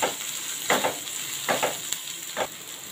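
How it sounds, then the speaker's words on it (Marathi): Onion, green chillies and curry leaves fry in oil for potato bhaji, a continuous close sizzle with rhythmic stirring scrapes every second or so, and no one speaking. "आता हे सर्व ना परतून घ्यायचं आहे तेलावर"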